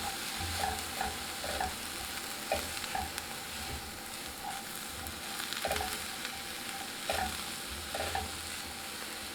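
Brussels sprouts sizzle in a hot pan with balsamic vinegar, a steady close frying hiss broken by repeated clicks and scrapes as they are tossed and stirred.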